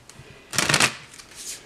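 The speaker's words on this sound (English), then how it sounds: "let's shuffle the cards a wee bit here" A deck of tarot cards being shuffled by hand, a quick riffling burst in the middle followed by softer card handling, close and fairly quiet.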